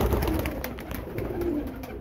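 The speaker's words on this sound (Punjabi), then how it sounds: "ਸਲੇਟਾ ਕਬੂਤਰ ਹੈ, ਸਲੇਟਾ ਬੋਲ ਰਿਹਾ ਹੈ" Grey pigeon cooing at a pigeon sale, low soft coos repeating under a busy background murmur, moderately near.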